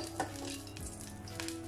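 Oil hitting a hot pan while tempering for salna gives a close, steady sizzle with faint clinks of a utensil against the pan.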